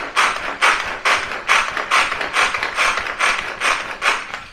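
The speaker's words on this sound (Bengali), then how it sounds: "পেঁয়াজটাকে একটু চপ করে নেবো।" Electric chopper whirring in short, rhythmic bursts as it chops onion, about nine loud pulses in steady succession, close up with no talking.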